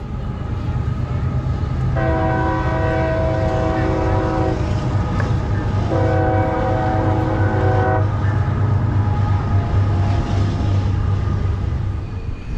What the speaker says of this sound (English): we're catching a train coming out of the tunnel, heading west